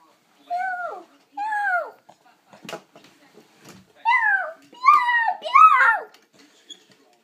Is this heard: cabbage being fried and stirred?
no